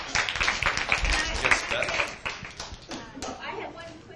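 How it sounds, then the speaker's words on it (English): A modest audience at a legal profession conference claps for an honoree, a fairly close, uneven round of applause that fades over a few seconds, with some talking mixed in. "One more big round of applause for Dana."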